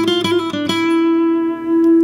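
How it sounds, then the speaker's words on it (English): Short Spanish-flavoured guitar lick over a minor chord progression, a few quick plucked notes settling into one long ringing tone, close and clear with no talking. "we're gonna play this very, very nice kind of Spanish style lick"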